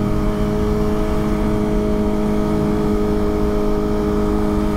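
A loud Kawasaki ZX-25RR motorcycle engine drones steadily and close while riding at night, a constant rumbling hum with a sustained tonal whine, without obvious pauses.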